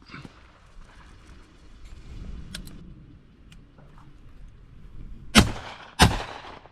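Two sharp shotgun blasts ring out a moment apart outdoors while decoying pigeons, following a stretch of low wind and rustling.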